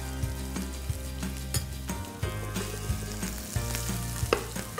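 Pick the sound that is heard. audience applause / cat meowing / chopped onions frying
chopped onions frying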